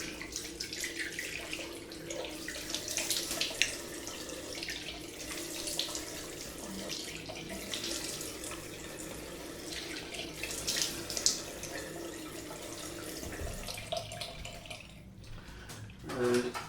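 Cold water running from a bathroom tap into a sink during a head shave, a steady close splashing flow that lasts most of the clip before cutting off near the end.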